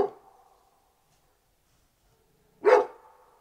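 A frightened dog gives two sharp, close barks about two and a half seconds apart, with near silence between them.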